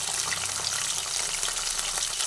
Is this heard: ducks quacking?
no